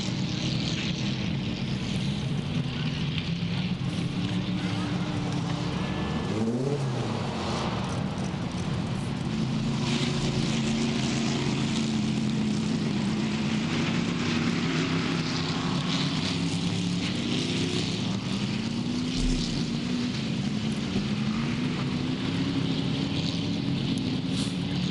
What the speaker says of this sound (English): Okay, these are the stock cars, stock division.